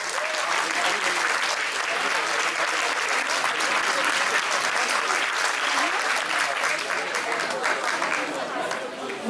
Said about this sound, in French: Je vais vous demander de l'applaudir bien fort.